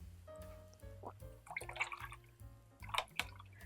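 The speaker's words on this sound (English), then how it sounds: "I'm going to wash my brush" A paintbrush loaded with acrylic paint is swished and tapped in a water cup, giving faint soft splashes and drips with little clinks, quiet and close, over a low steady background hum.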